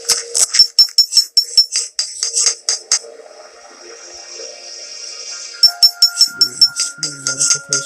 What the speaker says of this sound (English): sorry about that YouTube notification